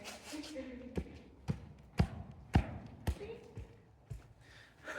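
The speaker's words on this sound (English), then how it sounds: "Just making weird noises with my boots" Sharp, irregular taps from boots striking a hard surface, about a dozen knocks spread unevenly, moderately close, with faint breathy background noise.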